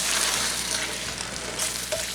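Crushed tomato sauce with oregano stirred in a hot pan on the stove for spaghetti lasagna, a continuous close sizzle and bubbling hiss with faint scraping strokes of the spoon.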